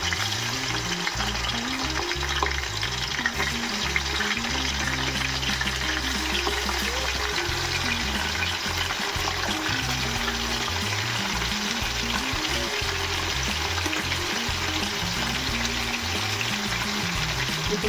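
Chicken leg pieces sizzle steadily in a pot for pasav biryani, a constant close frying hiss with a low rumbling undertone and no talking.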